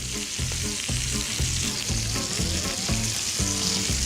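Sausage sears in a hot pan with a steady, bright sizzle, partly under a rhythmic background music track for a few seconds.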